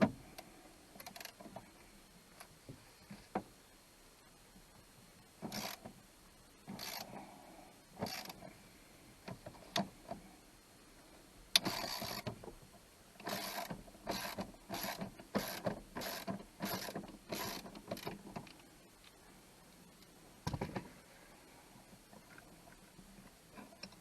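Ratchet wrench clicking as it backs out a 13mm bolt on a 2004 RAM 2500 pickup, during a cruise control clockspring repair: scattered single clicks, then a rapid run of close, crisp ratcheting strokes, with no talk.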